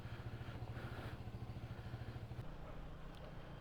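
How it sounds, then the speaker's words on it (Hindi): A KTM Duke 250 motorcycle idles after a cold start, its single-cylinder engine thumping in a steady, even rhythm close by. The idle softens toward the end. "और तब तक कोल्ड स्टार्ट भी दे देते हैं, सो दैट जब तक कपड़ा मारूँ तब तक बाइक थोड़ी हीटअप हो जाए"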